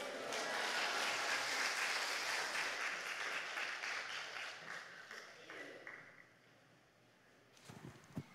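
A church congregation at a prayer retreat applauds as the pastor comes forward, dense clapping filling the room for several seconds before thinning out and fading near the end.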